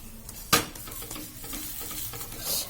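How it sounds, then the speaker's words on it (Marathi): Cauliflower paratha roasting with oil on a hot pan, a low steady sizzle opened by one sharp spatula clatter, with softer scrapes and a swelling hiss at the close. "सर्व बाजूने आपण असं तेल लावून घ्यायचं"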